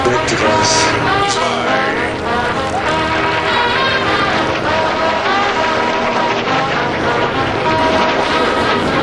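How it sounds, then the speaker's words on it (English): A propeller aircraft flies nearby with a loud, steady, full engine drone and propeller throb that holds without pause and fills the whole span. "This is a magnificent aircraft."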